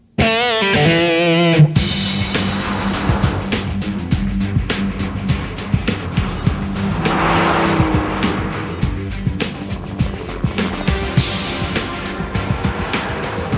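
A second generation Porsche Boxster drives hard and loud, its engine revving up and down with tire squeal, after a brief rising engine note at the start.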